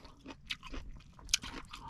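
Close, crunchy chewing of grilled fatty barracuda eaten on a boat at sea, with a series of crisp bites and mouth sounds, one sharp crunch standing out near the end, and no talk.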